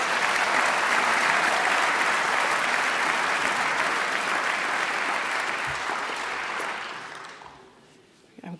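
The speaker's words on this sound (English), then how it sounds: "another applause" Opera awards ceremony audience giving sustained, dense applause that stays loud for about seven seconds, then fades away, leaving near quiet before a brief sound at the end.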